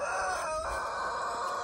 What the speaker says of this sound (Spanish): ¡Cállese, gallo!